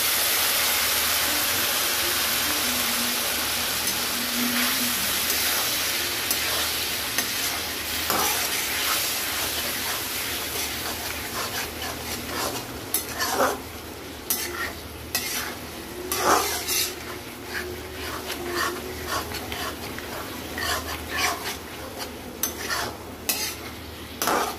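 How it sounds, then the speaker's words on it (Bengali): Water hits a hot pan of frying onions for an egg curry and sets off a loud, steady sizzle. A utensil stirs and scrapes against the pan throughout, and no voice is heard. "এর মধ্যে একটু আমি জল দিয়ে দেব।"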